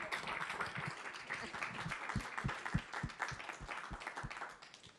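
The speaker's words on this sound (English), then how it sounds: "let's give one more round of applause for all our speakers tonight" A modest crowd applauds the speakers at an evening meetup, scattered claps blending into a brief burst that tapers off toward the end, heard from a moderate distance.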